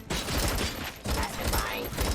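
Heavy gunfire in RoboCop: Rogue City, loud dense bursts of shots in two or three waves with brief gaps between them.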